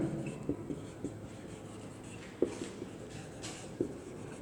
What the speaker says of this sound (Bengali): আমরা সংজ্ঞাটা লিখব